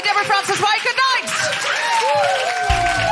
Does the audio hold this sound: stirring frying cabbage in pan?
no